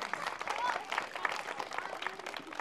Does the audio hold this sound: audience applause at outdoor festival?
yes